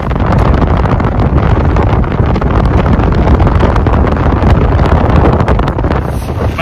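Strong stormy wind in the Maldives buffets the microphone with a loud, constant roaring rumble and gusty blasts throughout.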